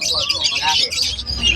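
Pet birds chirping in cages at a bird market in Malabon, among them opaline budgie-type birds; bright overlapping tweets close by, with people talking over them.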